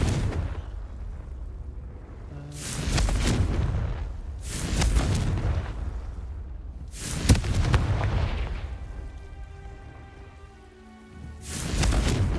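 Confringo fire spell blasts in the Hogwarts Legacy video game, several loud bursting explosions spaced a couple of seconds apart, each with a rumbling tail, with quieter ambience between.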